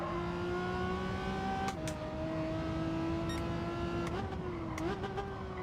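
A Renault Megane race car's engine drones steadily in Gran Turismo 7, a sustained tonal whine that holds pitch, dips and climbs again with gear and throttle changes, with faint clicks over the top.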